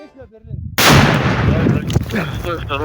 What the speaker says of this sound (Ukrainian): дайте болотянцю трохи часу для вибуху